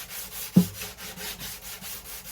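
Hand sanding across a finish to level it, with a steady run of rhythmic rubbing strokes, about eight in quick succession, close and fairly soft, plus one brief bump early on; no talking.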